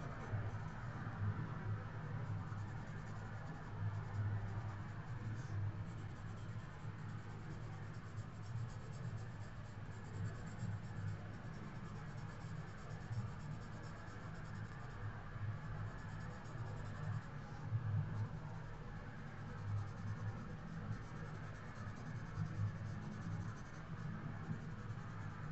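Steady, faint scratching of a mechanical pencil shading graphite on paper, a soft continuous rasp of short strokes recorded close and quiet, with no talking.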